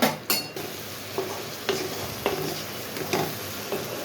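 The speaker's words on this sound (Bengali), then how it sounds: "আমি ভালোভাবে আদা রসুনটাকে ভেজে নেব" Ginger and garlic with salt frying in a pan, a light sizzle under repeated sharp scrapes and taps of a spatula against the metal, close and without talk.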